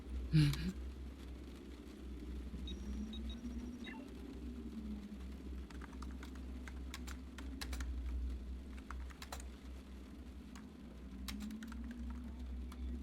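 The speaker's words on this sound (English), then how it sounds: "it's just me typing" Computer keyboard typing during a cyberpunk cafe ambient study stream, scattered quick key clicks at a low level over a steady background hum.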